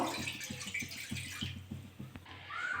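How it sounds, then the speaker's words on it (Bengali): Water poured into a kadai (wok) set on a lit gas stove, a continuous close splashing rush with rapid rhythmic gurgles that stays fairly loud throughout. "গ্যাস জেলে কড়া বসিয়ে দিয়েছি আর কড়াতে একটু জল দিয়ে দেবো"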